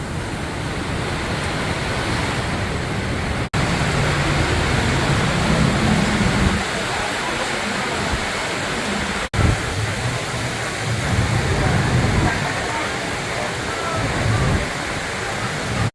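Heavy rain and gusting wind roar on a Bangkok street near a bridge, a loud, dense continuous wash with passing traffic rumbling underneath and a person talking briefly.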